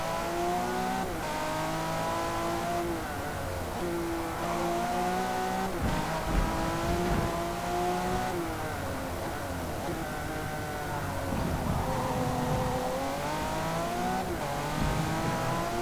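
Porsche race car engine in the Forza Motorsport video game, a loud, continuous high-revving howl rising and falling through gear changes, with a brief tire squeal partway through.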